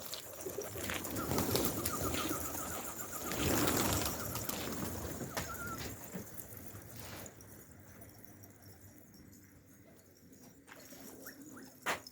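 Pigeons coo and call inside a coop, the birdsong fairly loud and busy for the first half, then softer with a faint rhythmic cooing and a brief sharp sound near the end.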